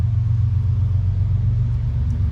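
A Kubota G1800 Quadra Steer mower's little three-cylinder diesel idles nearby with a steady low rumble, alone and unchanging.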